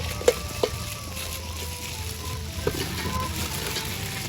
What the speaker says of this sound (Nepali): म सानो माछा फ्राई गर्न लागिरहेको छु